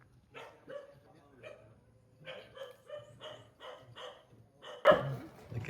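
A dog barks several times in sharp, spaced-out woofs at a moderate distance outdoors at a home construction site in the Philippines, with a person talking over the barking.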